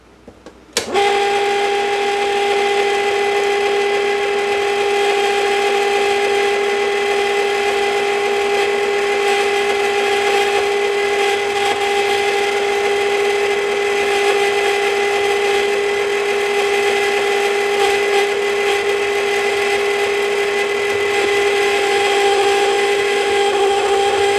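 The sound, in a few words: electric mixer mixing chocolate chips into batter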